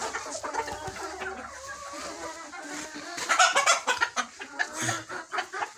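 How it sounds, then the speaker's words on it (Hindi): Desi hens clucking inside an indoor chicken coop on a farm, a dense overlapping chorus of clucks and squawks that grows louder and busier in the second half, with no talk. "देखें हम आए हैं अब मुर्गियों के"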